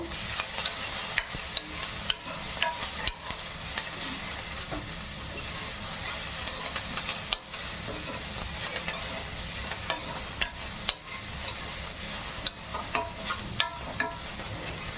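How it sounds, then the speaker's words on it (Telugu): Onions fry in a pan for a South Indian dish, with a steady close sizzle and frequent scraping clicks of a spoon stirring throughout. No one speaks. "ఇవి కొంచెం బ్రౌనిష్ కలర్లో వచ్చే వరకు వేసండి"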